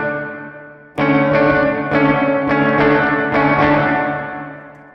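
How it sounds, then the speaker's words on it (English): Guitar played through a reverb pedal set to hall mode with the level maxed: a bright struck chord rings out, followed by several more strums, each blooming into a long, lush wash that lingers and slowly decays. "And now this is a hall delay with it maxed."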